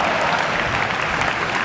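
A live comedy audience claps for a knife-juggling act, a steady, dense wash of applause filling the room without a break.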